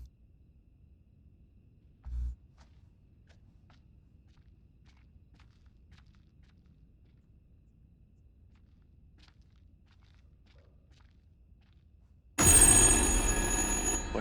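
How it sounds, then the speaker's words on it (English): A telephone rings loudly and suddenly near the end of a long, near-silent stretch in the horror game Little Hope, after one dull thud earlier on. "That was the phone ringing."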